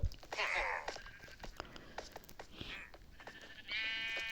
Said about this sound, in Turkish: Aha burada koyunlar var.